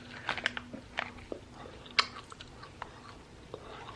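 Someone biting and chewing a round bar made of packed nuts, close-up crunches and irregular crackling bites, one sharp louder crunch midway, quiet between chews.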